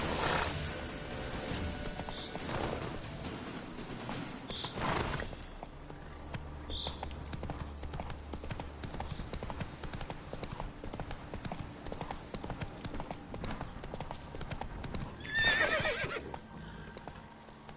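Roach the horse gallops in The Witcher on PlayStation 5, with steady rapid clip-clop hoofbeats running throughout and a few loud whinnies breaking in near the start and again toward the end.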